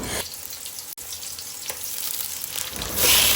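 Cumin seeds dry roasting in a pan give a steady, close rustling sizzle that cuts out briefly near the start, then swells louder toward the end, with no voices.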